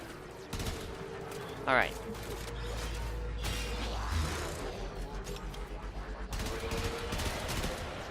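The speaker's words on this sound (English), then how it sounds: "I'm currently using the burst for the Tiburon." In Warframe, a Tiburon Prime fires in burst mode during a defense mission on Jupiter, with rapid clustered shots over game noise and a steady low hum while someone speaks briefly.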